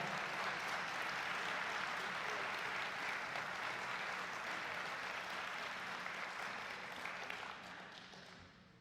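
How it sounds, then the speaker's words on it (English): An audience at a WWII Merchant Marine Congressional Gold Medal commemoration gives a long, steady round of applause, a dense clapping wash that holds evenly before fading out at the end. "Please give a round of applause to Mr. Nelson."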